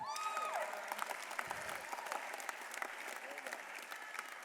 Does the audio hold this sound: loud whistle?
no